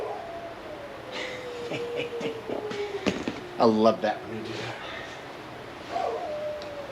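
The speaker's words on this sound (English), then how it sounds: "Can you hear my dogs?" Several dogs howl and bark in the distance outdoors, rising into a yipping chorus midway and again near the end, while someone talks over them.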